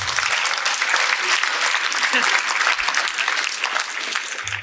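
A hall audience applauds in a dense, sustained burst of clapping that stays loud and even for several seconds, easing only slightly toward the end.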